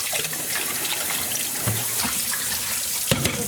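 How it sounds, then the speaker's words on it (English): Steady running tap water pours and splashes in a sink as cherry wine-dyed embroidery floss is rinsed, a continuous close gush with small shifts and splashes throughout. "Just make sure we have all those pieces rinsed."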